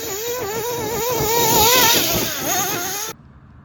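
A small nitro engine in a Losi LST RC truck screams at high revs, pitch wavering up and down as it races nearby, then cuts off abruptly into quiet.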